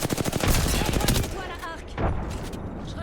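Gunfire and frag grenades in the video game Apex Legends, with rapid automatic bursts crackling in quick succession and then a heavier explosive burst near the end, loud and dense, with a voice talking over it.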